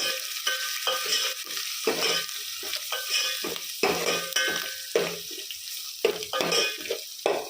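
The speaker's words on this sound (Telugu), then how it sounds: "అల్లంలో పచ్చివాసన పోయేంత వరకు బాగా ఫ్రై చేసుకోవాలి" Crushed ginger frying and being stirred in a pan for an ajwain java, steady close sizzle broken by repeated scraping strokes of a spoon, no voices.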